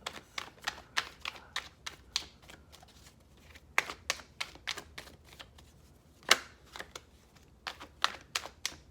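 Tarot cards being shuffled by hand, a rapid series of crisp riffling snaps and flutters in short bursts with brief pauses between, close and fairly loud with no talking.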